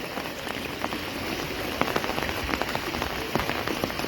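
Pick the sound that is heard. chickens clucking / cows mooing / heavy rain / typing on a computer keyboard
heavy rain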